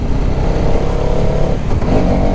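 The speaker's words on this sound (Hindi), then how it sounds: "जस्ट गियर डाउन, थर्ड में इतना तगड़ा पुश मिलता है बाइक को" A Hero Karizma XMR 210 motorcycle pulls hard after a downshift into third, its engine note a loud, continuous growl close to the microphone, steady with a slight rise in pitch and no speech over it.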